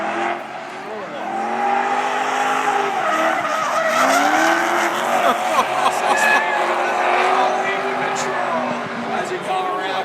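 Drift cars sliding at the Calder Park racetrack, loud sustained tire squeal with wavering pitch and engine roar throughout, while an announcer talks over the skidding.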